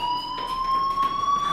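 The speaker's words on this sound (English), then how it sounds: "do you hear that fire alarm?" A fire alarm rings steadily in the Life is Strange video game, a sustained electronic tone with a high whine above it, continuous and fairly loud for the whole moment, with no voices.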